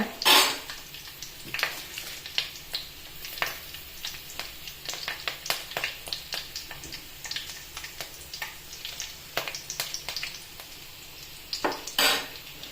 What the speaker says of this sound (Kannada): ಸಾಸಿವೆ ಕರಿಬೇವು ಸ್ವಲ್ಪ ಸಿಡಿದ ಮೇಲೆ